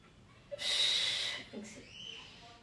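A deep, audible inhale taken mid-workout during a cardio session, a broad breathy rush lasting under a second, followed by a quieter second breath and a soft voiced sound.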